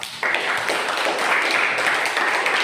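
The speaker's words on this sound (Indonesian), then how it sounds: "tepuk tangan untuk kelompok A" A classroom audience bursts into applause for a group of presenters. Dense, even clapping starts suddenly and holds steady and fairly loud for a couple of seconds.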